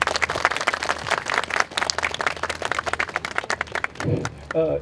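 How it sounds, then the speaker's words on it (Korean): A hall audience at an emergency forum claps fast and thickly to welcome a guest, a dense patter at close range that tapers off near the end as a voice begins to speak. "큰 박수로 맞이해 주시기 바랍니다"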